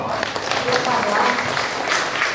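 An audience at a village stunting-prevention information program in Sobontoro, Bojonegoro breaks into sustained applause, a dense crowd of clapping hands with faint voices mixed in.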